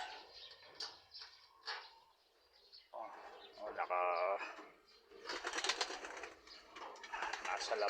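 Young pigeons coo in a loft in soft, repeated throaty calls at close range, mixed with light chirps and wing flutters, with someone talking in between.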